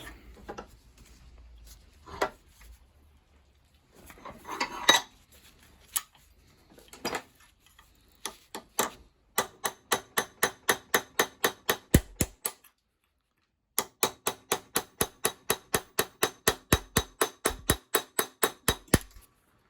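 A chisel hammered against the shackle of a cheap padlock clamped in a vise, first a few scattered blows, then two long fast runs of evenly spaced sharp metallic strikes, close and crisp.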